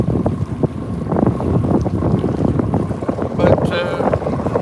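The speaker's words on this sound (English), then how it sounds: "Now the problem's gonna be you can't hear me for the wind." Heavy wind buffets a microphone out on a boat, roaring and rumbling steadily with loud gusty bursts. Faint water sounds can be heard beneath it.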